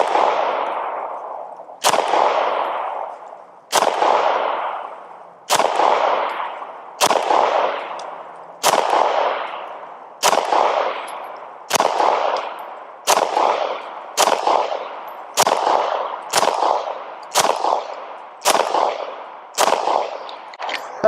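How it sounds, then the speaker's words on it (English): Ruger RXM pistol fired at a target, a steady string of about fifteen loud, sharp shots spaced roughly one to one and a half seconds apart, each with a short ringing decay and no talking. "let's see if I can put some shots on the head here"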